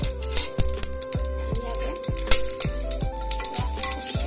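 Whole cloves, cardamom, cinnamon and cumin seeds with salt frying in hot oil for egg biryani, giving a steady close crackling sizzle that runs throughout beneath rhythmic background music.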